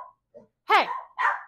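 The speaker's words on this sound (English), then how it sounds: "My dog's making a lot of noise." A dog barks and yips at a delivered Amazon package indoors, with a few short, loud bursts separated by pauses and a faint whimper near the start.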